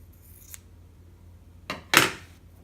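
Scissors trim a fabric seam allowance with a faint snip, then two crisp close cuts in quick succession, the last the loudest, in a quiet room.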